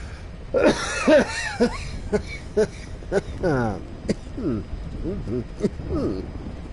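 A man coughs and clears his throat in a few rough, voiced bursts, with short wheezy, throaty sounds in between.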